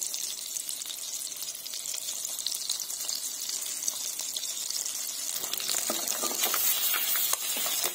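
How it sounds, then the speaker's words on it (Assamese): Eggs frying in a pan for an egg curry, giving a steady, close hiss of sizzling that brightens and crackles more in the final seconds, with no talking. "সেইখিনি এতিয়া ফ্ৰাই কৰি ল'ম।"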